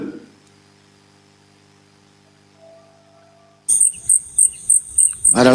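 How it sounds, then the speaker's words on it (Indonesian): Crickets chirp in a steady rapid series of bright high pulses, fairly close and loud, starting partway through after a quiet stretch. "Mute dulu suara jangkrik."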